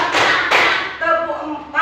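Sharp hand claps in a rhythmic classroom clapping routine led before an artificial intelligence lesson, two loud close bursts followed by a voice speaking.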